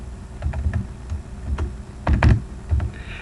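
Someone types on a computer keyboard, with quick clusters of close, crisp key clicks in an irregular rhythm, alone in a quiet room.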